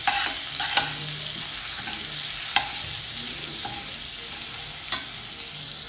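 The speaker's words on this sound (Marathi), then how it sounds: "वाटण आपण 2 मिनिटं परतून घेऊया" Ground masala paste for Mumbai street-style vada pav sizzles softly as it is stirred in a pan, with a few sharp clinks of the spatula against the metal scattered over a steady frying hiss.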